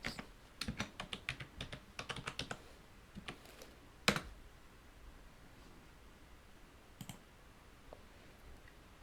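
Rapid clicking of computer keys as someone types a web address into a browser, a quick burst of keystrokes followed by a few isolated taps and one sharper click, quiet and close with no talking.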